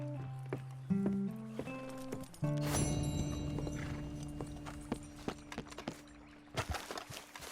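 A horse's hooves clop along in Red Dead Redemption 2, rhythmic hoofbeats under sustained musical tones, growing busier and faster near the end.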